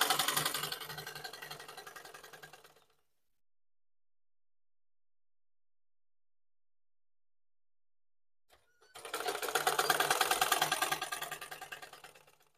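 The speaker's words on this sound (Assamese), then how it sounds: "এনেকৈ মই গোটেইখিনি চিলাই ল'ম, লৈ পেলাই দেখুৱাই আছোঁ।" Sewing machine stitching a mekhela cloth, a fast whirring, rattling run that fades to a stop, then several seconds of silence before a second close, loud burst of stitching starts and winds down.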